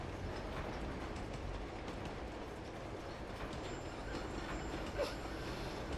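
Continuous low rumble of a train rolling along rails in Uncharted 2, steady and fairly loud, with faint squeals and a small clank near the end.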